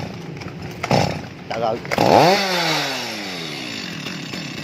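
A Stihl MS 250 chainsaw engine starts after a few pull-cord tugs, then revs up and settles into a loud, close, buzzing idle while someone speaks briefly.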